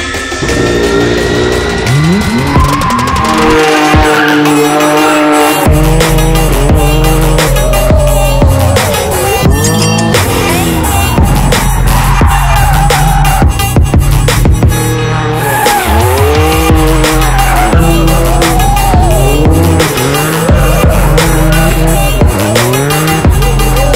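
Drift car tearing through a container-ship yard, engine roaring loud and continuous with revs rising and falling, punctuated by sustained squealing tires through the slides.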